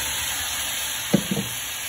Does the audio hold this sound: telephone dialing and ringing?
no